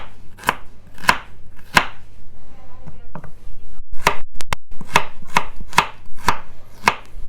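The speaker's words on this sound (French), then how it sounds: "Pour émincer la carotte, on va d'abord la couper en deux." A knife chops through a carrot on a cutting board for meatballs in tomato sauce, landing crisp, close, evenly spaced thuds in two runs with a short pause between them.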